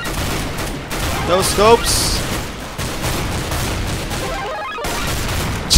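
Rapid M4 and AK rifle gunfire in a CS:GO gun game match, bursts of shots crackling loudly throughout with a player talking over the action.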